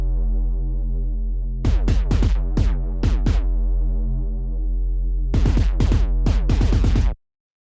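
A three-layer synthesized kick and bass, a deep sustained booming tone punctuated by bursts of sharp rapid clicks in two groups, played alone and close before cutting off abruptly.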